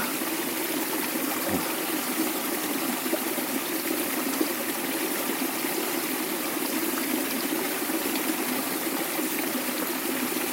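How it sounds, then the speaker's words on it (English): Mountain water flows in a steady, close rushing stream, an even continuous wash with no voices over it. "Mountain water."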